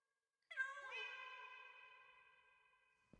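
A single drawn-out cartoon cat meow from a video game rises and then slowly fades over nearly three seconds, clear and close against silence.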